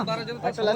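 Pigeons coo at a busy rural livestock market, two or three soft throaty calls in quick succession heard close by over faint background chatter.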